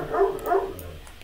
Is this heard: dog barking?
yes